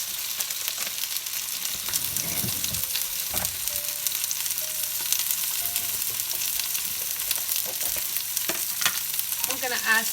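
Potatoes tossed and stirred in a hot pan, a constant close sizzle with rustling scrapes and a few clunks of a utensil against the pan, fairly loud and unaccompanied by voices.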